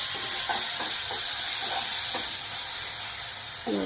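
Tomatoes cook down in a pan under a steady, hissing sizzle, with a few soft spoon strokes at intervals.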